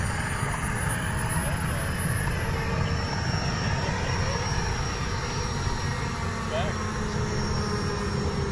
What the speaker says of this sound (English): Full-size plane alert!